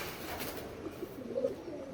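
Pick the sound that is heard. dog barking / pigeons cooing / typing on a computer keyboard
pigeons cooing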